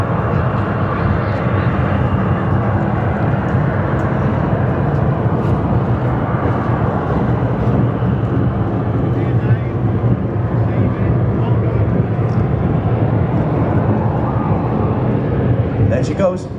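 Bluebird K7 jet hydroplane on water, a continuous loud jet roar with wind buffeting that holds steady throughout, someone talking over it.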